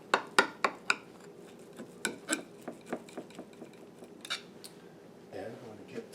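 A knife cutting through a baked ham and white cheddar bread pudding, a series of soft, crisp taps and scrapes in a quick then slowing rhythm, ending in a brief duller scrape.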